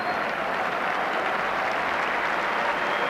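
A football crowd applauds in a stadium as an injured player, Dale Gordon, is carried off, a broad, steady wash of clapping from a distance, even in level throughout.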